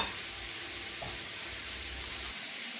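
Carrots and leeks stir-fry in a pan for noodles, giving a soft, steady sizzle with faint stirring scrapes and no voices.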